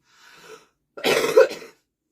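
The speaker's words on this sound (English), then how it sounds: "Excuse me, you're making me cough." A short hoarse cough, preceded by a faint throat sound, close and isolated with no talking.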